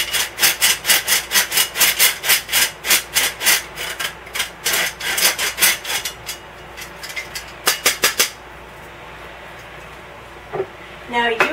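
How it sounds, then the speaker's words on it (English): Powdered sugar for cookie icing is sifted through a mesh sieve, making rhythmic rasping shakes in quick regular strokes that thin out and stop, close and fairly loud. "sifting it will make it finer and will make sure that we don't have any lumps in our icing"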